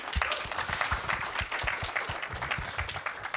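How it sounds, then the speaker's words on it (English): Audience applause after a UN Declaration of the Rights of Nature announcement: a smaller, sparse-sounding crowd clapping, with individual claps distinct and thumping near the microphone, steady and moderately quiet. "All right, round of applause."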